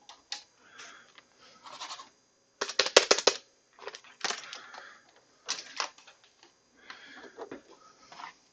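Typing on a computer keyboard, uneven clusters of sharp key clicks and clacks separated by brief pauses, close and dry.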